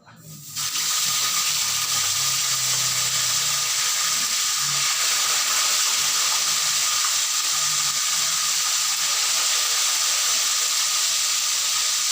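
Galunggong fish frying in hot oil gives a loud, steady sizzle and hiss that runs unbroken throughout, with faint low clatter underneath.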